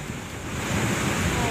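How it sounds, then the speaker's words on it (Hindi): Steady roaring rush of floodwater from a swollen river after heavy rain in Dharamshala, a broad continuous wash of noise that builds slightly and holds without a break. "धर्मशाला, मैक्लोडगंज सहित आसपास के इलाकों में भारी बारिश के बाद नदी नाले उफान पर हैं।"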